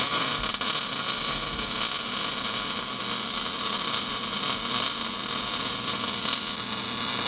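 Arc welding a bead on a Nissan 240SX project car, a steady continuous crackling hiss that runs unbroken for several seconds, close and fairly loud.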